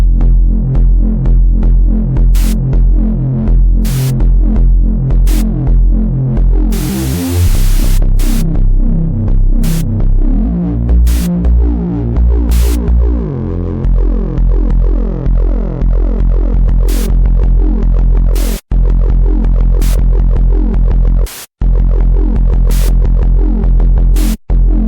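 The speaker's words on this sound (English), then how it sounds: "how to configure a Misa Triwave to sound like this" Misa Triwave digital synth playing a hip-hop style pulsing bass line with sharp, regularly spaced snare hits on top, loud and steady for the whole stretch, with a brief bright burst partway through and no voices.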